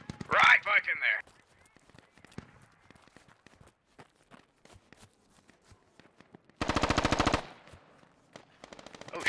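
Gunfire in the video game Squad: a sharp shot at the start, then a loud, rapid automatic burst later on, with scattered footsteps and quiet movement sounds between them.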